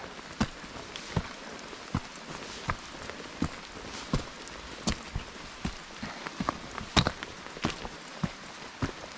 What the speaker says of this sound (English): Rain's heavy now.